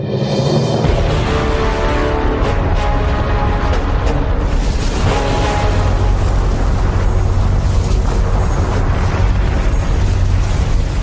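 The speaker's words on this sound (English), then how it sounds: "The eruption must have involved a major explosion." A continuous, loud, rumbling roar of the Mount Vesuvius eruption, dense and thundering with deep booming low end throughout.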